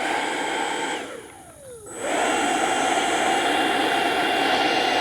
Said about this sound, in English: when an A6 is running, it's loud as all outdoors. This is a loud airplane